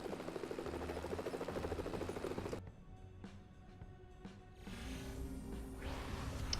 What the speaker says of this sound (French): Alors je vais essayer mon hélicoptère